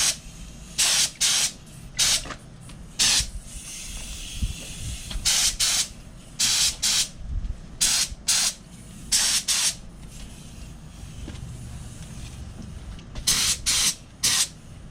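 A spray gun lays pearl paint onto a Pontiac Fiero intake outdoors in a backyard, heard as repeated loud hissing bursts of varying length over a steady low background rumble.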